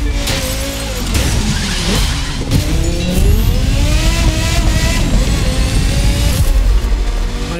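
A Porsche Carrera GT races in the video game The Crew 2, its loud, close engine revving hard with repeated rising pitch sweeps between gear shifts.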